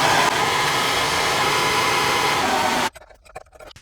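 A MAP gas torch roars steadily and loudly at close range while heating a stuck nut on a Yukon/Suburban rear A/C line, then cuts off abruptly, leaving a few faint clicks and handling noises.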